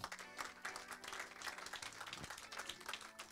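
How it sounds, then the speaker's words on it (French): A church congregation claps and cheers in praise, a lively stretch of rhythmic applause with voices mixed in and music-like tones beneath, moderately loud and continuous. "Je veux qu'on acclame le Seigneur pour lui également."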